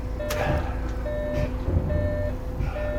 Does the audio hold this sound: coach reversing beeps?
yes